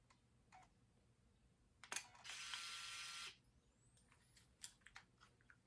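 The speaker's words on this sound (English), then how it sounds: "We'll show you that the shutter fires too." A camera's shutter fires in a quiet room, with a short mechanical click followed by a sustained whirring buzz of about a second and a half, then a few faint clicks and handling taps.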